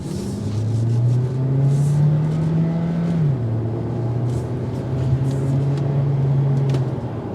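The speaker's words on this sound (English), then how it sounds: "the engine noise does filter in quite a bit when you start going at a higher RPM" A 2023 Hyundai Elantra Limited Hybrid's engine hums steadily, its pitch rising as it accelerates, holding high, then dropping briefly before settling into a sustained drone, with faint road rumble underneath.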